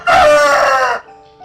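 Roosters in a village flock crowing, one loud close drawn-out crow lasting about a second, followed by fainter crowing in the background.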